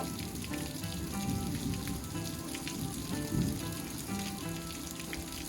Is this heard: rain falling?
yes